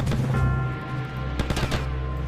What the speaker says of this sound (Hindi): मशीन गन है ब्रदर, सामने भी है।